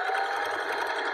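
A sewing machine stitches a fabric face mask with a continuous, fast, steady whirring rattle, close up and without any voices.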